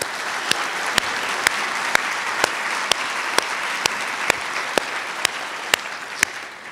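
A crowd at a university president's state-of-the-university speech applauds steadily, while one nearby pair of hands claps sharply and evenly about twice a second above the broader wash.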